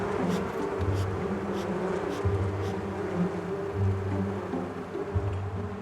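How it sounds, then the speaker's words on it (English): Honey bees buzz around hives being prepared for transport, a steady close swarm hum with individual bees rising and falling in pitch as they fly past, with no talking. "As a few bees land on her, Antoinette takes notice."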